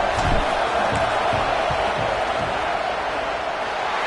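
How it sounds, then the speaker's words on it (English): A roaring stadium crowd at a football game during a field goal attempt, sustaining a loud, steady wall of noise with scattered whoops and claps throughout. "This crowd trying to do its part to get inside the kicker's head."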